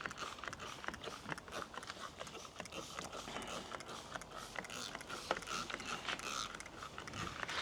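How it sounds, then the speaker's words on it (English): A pump sprayer works over a vegetable garden with a steady clicking and creaking pump mechanism and a faint hiss underneath, heard up close at low level. "I spray so that you can eliminate them"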